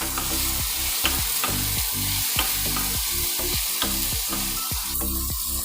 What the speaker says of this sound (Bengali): সবজিটা দেখুন একটু ভাজা ভাজা হয়ে এসছে আমার